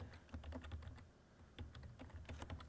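Fingers type quickly on a computer keyboard in quiet bursts of clicking keystrokes, with a brief pause in the middle, while setting up Windows 8 remote assistance.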